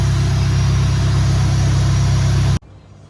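A Nissan R32 GTR engine on a dyno during a tuning pull, a loud sustained high-load roar that cuts off abruptly near the end, leaving a faint low hum.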